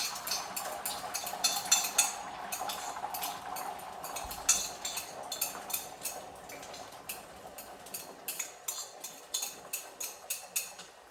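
Beaten egg liquid poured into hot oil in a pan for a green cabbage and egg dish, with a steady crackle and a run of light metallic clinks and taps from utensils against the pan, close and moderately loud, no talking.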